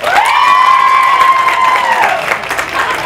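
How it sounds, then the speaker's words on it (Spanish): An audience applauds and cheers at a traveling arts fair, with steady crowd noise under a loud, sustained whoop that rises and then fades near the end. "¡Aplauso y escándalo para mi amiga número tres!"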